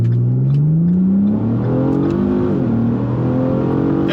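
A Ford Taurus SHO accelerates hard with traction control off, its engine note climbing steadily and loud from inside the car, easing for a shift partway through and then rising again.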